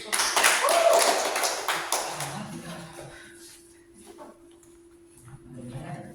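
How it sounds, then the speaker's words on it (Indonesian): A class of students claps in applause during a school lesson. A dense burst of clapping lasts about two seconds and then fades into a quieter room with a soft murmur and a light patter. "Tepuk tangan untuk"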